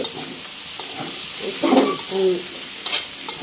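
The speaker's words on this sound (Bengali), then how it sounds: "করলা ভাজিটা নেড়ে দেবো" Bitter gourd (karela) fry sizzles in a pan while a spatula stirs it, a continuous close hiss with scraping strokes rising and falling, no voices.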